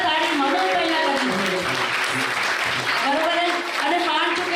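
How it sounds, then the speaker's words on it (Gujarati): Loud, steady applause from a crowd honouring a devotional singer at a Momaya Maa temple consecration celebration in Dumra, sustained throughout with voices mixed in. "જોરદાર તાળી"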